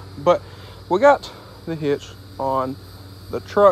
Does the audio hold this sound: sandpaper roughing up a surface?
no